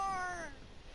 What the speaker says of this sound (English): Is your cat making too much noise all the time?